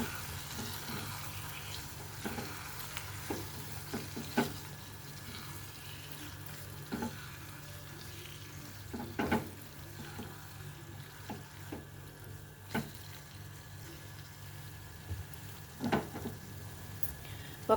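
Beaten egg pieces sizzle and fry in a pan while a utensil stirs them, with soft scraping taps recurring through a steady low frying hiss, no talking.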